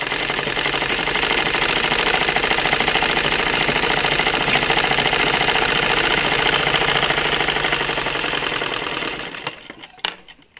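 A sewing machine runs steadily at speed, stitching a dress with a dense, even mechanical whir close up, then slows and stops near the end with a few final clacks.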